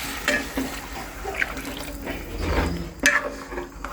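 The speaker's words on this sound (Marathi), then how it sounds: "आम्ही 2 ग्लास गरम पाणी टाकतोय." Two glasses of hot water are poured into masoor dal in a cooking pot, giving a splashing liquid rush with a few clinks and stirring sounds in between.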